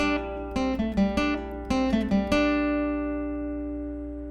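Acoustic guitar picks the intro to a song: a quick run of plucked single notes over a low drone, ending on a note left to ring and fade, played quietly and alone.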